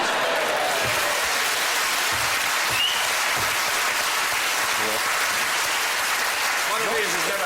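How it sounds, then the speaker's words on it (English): Studio audience applause at a British comedy quiz show, sustained, dense clapping filling the whole stretch, loud and close, with a few voices faintly mixed in. "One of these has never had a round of applause from 600 people."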